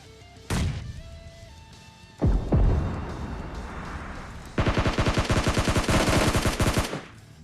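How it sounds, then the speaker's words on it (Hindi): In an online shooter, a loud RPG blast hits first, then a second heavy explosion booms and rumbles, and a long rapid burst of automatic gunfire follows, close and alone with no talk. "बस घुसते हैं बंदों के मुंह पे और एक आरपीजी एक और दागते हैं उनके ऊपर।"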